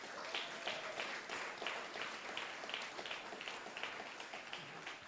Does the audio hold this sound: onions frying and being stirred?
no